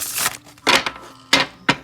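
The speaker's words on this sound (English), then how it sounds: "So I like the shuffle." An Aboriginal oracle card deck being shuffled: four separate crisp, papery riffling bursts, close and fairly loud, with short quiet gaps between them and no talking.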